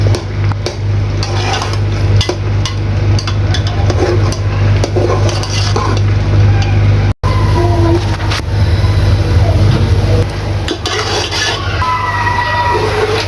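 Keema (minced meat) frying in a little oil in a pan: a continuous loud sizzle with scraping and stirring of a spoon against the pan, plus a low steady hum underneath, briefly cutting out once.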